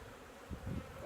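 Honey bees buzz at a beehive, a faint, low drone that swells briefly in the middle of a short, quiet moment.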